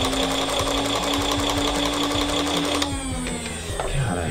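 Hasbro Nerf Pulse Rifle toy giving off its electronic firing effect, a loud buzzing, rapidly pulsing mechanical rattle with a whining tone that shifts partway through.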